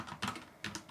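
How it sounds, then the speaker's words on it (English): A computer keyboard clicks in two short bursts of a few keystrokes each, quiet and close, with no talking. "We're going to type in right here"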